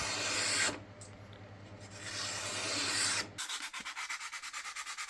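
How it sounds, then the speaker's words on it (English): Close scratchy sanding strokes rasp against the wooden handles of a homemade marking knife, first in long continuous rubs, then shifting to quick, rhythmic back-and-forth passes. "I still gave them a quick sanding to smooth out the surface"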